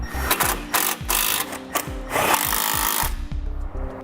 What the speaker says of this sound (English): Finally, we're going to replace the 2 bolts that we took off on the bottom of our fascia.